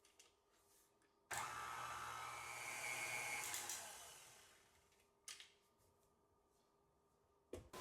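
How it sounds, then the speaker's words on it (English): An electric mixer starts abruptly and whirs loudly while blending dry parotta dough ingredients of flour, salt and sugar, its pitch shifting as it runs, then winding down and stopping. Brief clunks follow as it is switched off. "We'll run the mixer for the ingredients to get mixed well."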